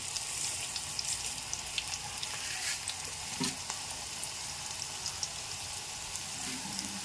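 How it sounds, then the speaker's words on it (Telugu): Mustard seeds sizzle and crackle in hot oil while tempering for elephant yam (kanda) pickle: a steady, close frying hiss dotted with sharp little pops, with no voices. "ఆవాలు వేస్తున్నాను."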